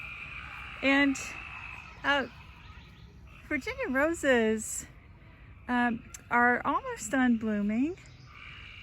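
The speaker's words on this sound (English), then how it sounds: "you can hear our mini tree frogs" Small tree frogs in a Virginia garden croak after rain in short rising, trilling bursts, several calls spaced across the stretch, clear and fairly close beneath a person talking.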